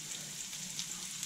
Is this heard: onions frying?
yes